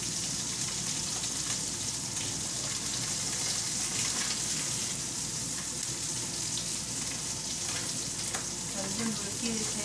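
Hairtail fish fries in hot oil with a dense, steady sizzle and crackle throughout, close and continuous with no talk.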